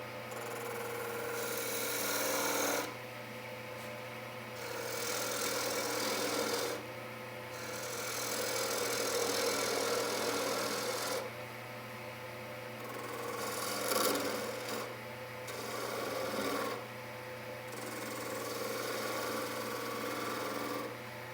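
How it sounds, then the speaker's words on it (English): Sandpaper working a small wooden bowl on a lathe, a steady raspy hiss over a low motor hum that swells and drops in bursts of several seconds, close and fairly quiet. "we've sanded the outside and the inside"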